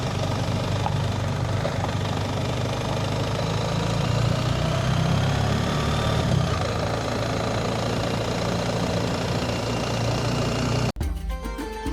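A motorcycle engine drones steadily while riding through city traffic in Rabat, Morocco, loud and continuous for several seconds before a sudden cut to a different engine sound near the end.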